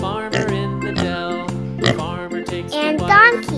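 Cartoon-style pig oinking for a children's farm animal coloring activity, with repeated short oinks over a steady, bright music bed.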